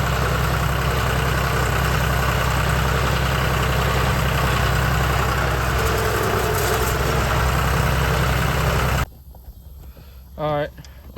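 A tractor engine runs steadily at the start of hay raking, a loud continuous low rumble that cuts off near the end, followed by a short voice in quieter surroundings.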